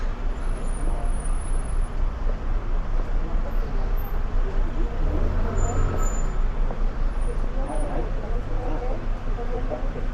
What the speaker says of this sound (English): There's loads of cars.